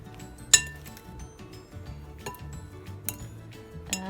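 Apple crumble ingredients, including hand-chopped apple and breadcrumbs, are stirred together in a bowl, giving a few quiet, scattered clinks of utensil against the bowl over soft background shuffling.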